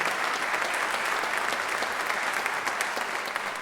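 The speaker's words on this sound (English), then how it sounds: "Please, round of applause for our fantastic panelists here today." Conference audience applauding panelists at a climate innovation summit session in Chicago, steady dense clapping throughout, loud and close with no pauses.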